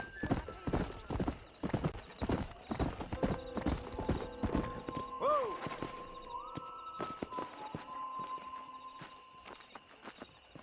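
Horse hooves clip-clop at a steady walking rhythm while riding in Red Dead Redemption, loud and close, with sustained musical tones and a brief rising whinny-like call partway through.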